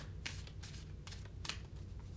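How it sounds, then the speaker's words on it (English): A tarot card deck being shuffled and cut, with several quick riffling bursts of papery card flutter, close and fairly soft. "Deck cut."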